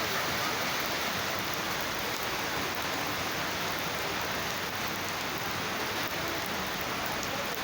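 Heavy rain falls in a dense, continuous roar of drops, loud and unbroken throughout, with no talking heard.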